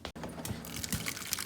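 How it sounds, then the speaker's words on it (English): Water is poured into a big bowl of oats in a short, close, continuous gurgling pour, about a second and a half long, with no voices. "I'm gonna put about 3 cups of water into my oatmeal"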